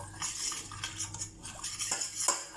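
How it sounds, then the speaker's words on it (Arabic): A spoon stirs and scrapes brioche dough in a bowl as milk is added, with repeated clinking and sloshing strokes close up and no voices. "نتوما نخلطوا دائما كما كنقول لكم واحد شويه باش ما كتكورناش"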